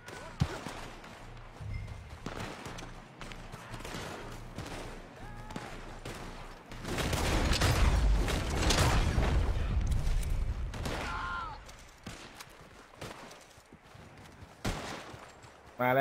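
Video game gunfire bursts out as repeated shots and heavy booms, densest and loudest through the middle stretch, with a voice talking intermittently over it.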